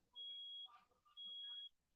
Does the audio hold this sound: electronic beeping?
yes